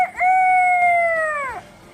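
A voice imitates a rooster crow, one long sustained call with a rising start and falling end, close and clear.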